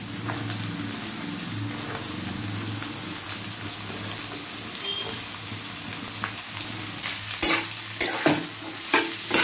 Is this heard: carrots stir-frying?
yes